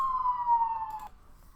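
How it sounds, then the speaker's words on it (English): A police siren wails outside on a downtown Los Angeles street, a loud steady tone sliding slowly downward for about a second before cutting off and leaving faint background hum. "Apologies for the siren."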